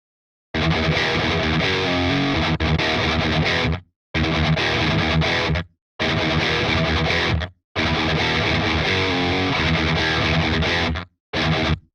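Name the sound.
Audiority Solidus VS8100 distortion effect, hiss switch setting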